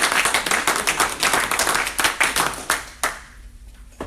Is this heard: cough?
no